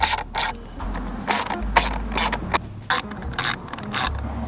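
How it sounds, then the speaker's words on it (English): Torque wrench clicking and ratcheting as screws are tightened on a BMW M Performance digital race display steering wheel in an F82 M4, a series of short, close mechanical ratchet bursts in a steady rhythm with no talking. "So, 220 torques on these screws here."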